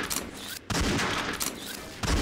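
Rapid bursts of gunfire in a first-person shooter deathmatch with sniper rifles, loud and close, with short gaps between volleys and no talk.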